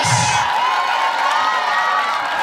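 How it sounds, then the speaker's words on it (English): Spectators cheer and shout for children racing at a school sports day, a loud sustained outdoor roar of voices with a brief high whoop at the start. "Let's keep cheering them as they start."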